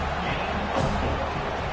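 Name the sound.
stadium crowd noise at Florida State football game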